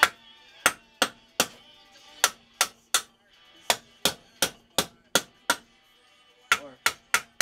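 A hammer strikes metal being forged and bent, sharp ringing blows landing in irregular bursts of two to four hits with brief pauses between them, loud and close.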